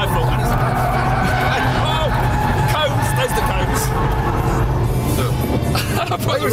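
A car is driven sideways round a bend on a test track, with tires squealing in short bursts over a loud engine and people talking throughout.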